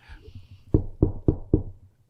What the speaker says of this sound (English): You hear that knock?